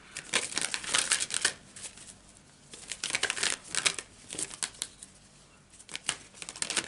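Tarot cards being shuffled and handled close up, a run of soft crisp riffling and flicking bursts that come in irregular clusters with short pauses, quiet and without talk.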